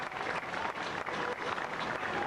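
Steady crowd applause at a Million Marijuana March rally in Cincinnati, a dense, continuous wash of clapping with no pauses, fairly close and filling the whole moment.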